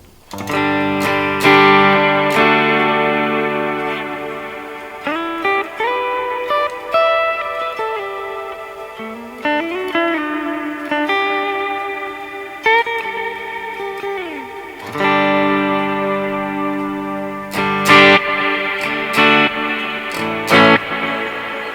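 An electric guitar playing sustained worship-music notes and chords through a Boss DD-500 tape delay, drenched in echoing delay and reverb that smear each phrase into a wide wash.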